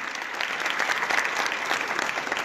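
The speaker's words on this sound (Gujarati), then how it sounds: "એક વખત જોરદાર તાળીઓથી" A seminar audience claps together in a dense, loud burst of applause that stays steady for a few seconds.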